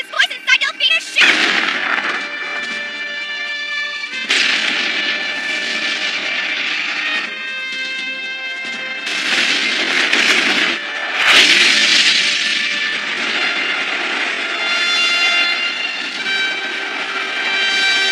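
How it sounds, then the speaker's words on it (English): Heavy anti-aircraft cannon fire in an animated series booms in repeated bursts, loud and close, with a roaring rumble filling the gaps between the blasts. "Heavy anti-aircraft cannon. Commence fire!"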